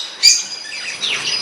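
Newly bought pet birds, one green and white, chirping in a short sharp call followed by softer tweets, close by and fairly faint.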